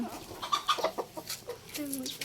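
A chicken clucks close by in short repeated bursts, with a few higher squawky notes scattered through the stretch.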